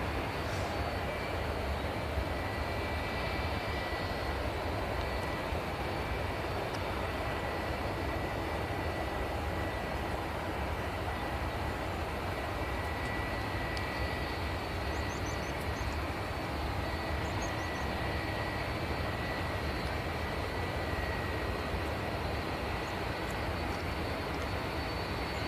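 Jet2 Boeing 757 at Manchester Airport in the early morning, a steady broadband engine roar with a faint high whine holding at constant loudness throughout, no voices.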